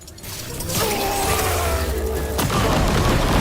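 A kaboom stick fires in The Outer Worlds 2, a loud booming blast with a sharp second burst, over continuous rumbling game sound.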